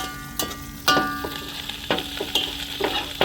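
Chicken biryani masala with leafy greens frying in a pan outdoors on a veranda, a steady close sizzle broken by sharp stirring scrapes and clanks against the pan, with no voice.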